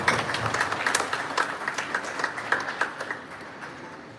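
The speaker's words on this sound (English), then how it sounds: "One more round of applause." A crowd applauds with steady, dense clapping that holds at a moderate level and eases off slightly toward the end.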